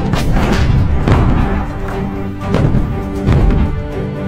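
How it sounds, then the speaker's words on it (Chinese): Cannon shells fired at enemy lines in a war film, four heavy booming thuds spaced about a second apart, loud and close over a dense rumbling battle background. "随着长官一声令下，数枚炮弹打去法军阵地"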